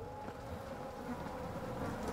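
Flies drone steadily and close in a filthy place in the horror video game Twin Soul. The dense insect buzzing is unbroken and stands alone, with no voices.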